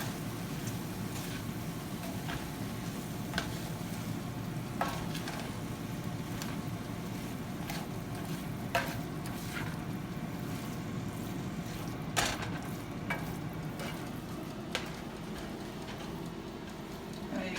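Potatoes frying in a covered pan with very little oil, a steady low sizzle and hiss with scattered sharp pops and crackles, continuous and fairly quiet.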